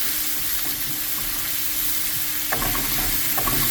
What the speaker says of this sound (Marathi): बरो भाजून घेता.